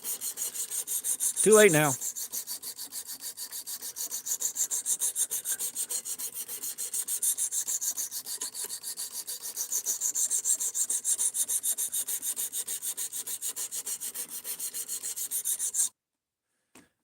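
A knife blade is drawn repeatedly across a sharpening stone at a 17.5-degree angle, giving close, regular rasping strokes with a brief voice early on before the scraping stops abruptly near the end.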